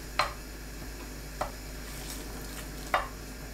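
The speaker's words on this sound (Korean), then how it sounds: "김을 구워주세요." Seasoned laver (gim) toasting in a pan gives three sharp, brief crackles spaced about a second apart, faint and close over a quiet background.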